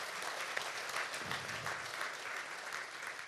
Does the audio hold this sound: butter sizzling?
no